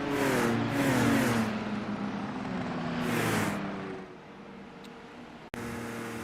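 An IndyCar race car in a racing video game drives down the pit lane at Indianapolis Motor Speedway, its engine holding a steady tone with two swelling surges, then dropping to a quieter hum before a sharp click.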